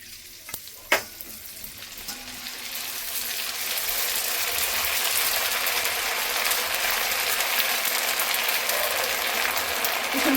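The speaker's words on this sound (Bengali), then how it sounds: "কি সুন্দর ফুটছে দেখুন।" Rice fries in hot oil for crispy fried rice, giving a loud, steady sizzle and bubbling that swells after a few faint clicks and taps at the start.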